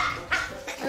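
A French bulldog barks excitedly indoors as guests arrive at a home, giving two quick, close yaps within a second over a soft room background.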